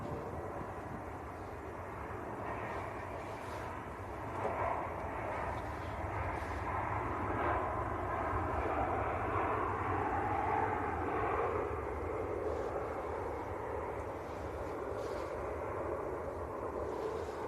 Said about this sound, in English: EasyJet from Innsbruck, just touching down, A320 Neo.